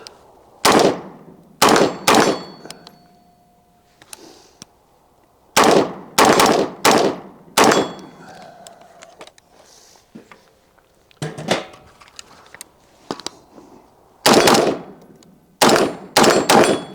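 Gun fired with stout recoil loads, sharp loud shots in uneven bursts of two and three separated by quiet gaps and faint clatter.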